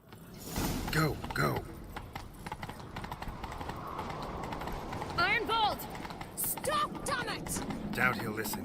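Hooves clatter in a rapid galloping rhythm throughout, mixed with sound effects from the video game The Witcher 3: Wild Hunt and voices calling out over the running horse.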